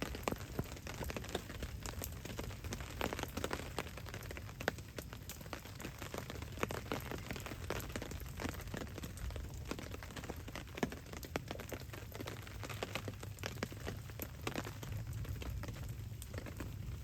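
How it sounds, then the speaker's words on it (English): Light rain patters steadily on a camp tarp pitched in the woods, a dense, even crackle of small drops that runs unbroken the whole time with no voices. "Just a little bit of rain still going on, not much."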